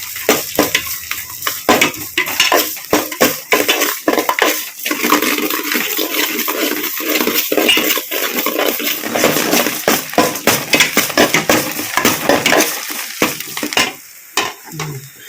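Small shallots and garlic sauté in a hot pan, giving a loud, continuous close sizzle broken by frequent scraping stir strokes, with a brief quieter moment near the end.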